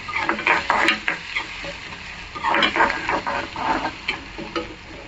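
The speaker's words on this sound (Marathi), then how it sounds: "कांदा आपण छान आहे ना परतून घेऊया छान असं मऊ होईपर्यंत परतून घेऊया" Chopped onion being sautéed in a pan until soft, a close, steady sizzle broken by repeated scraping stirs of a spatula against the pan, with no talk.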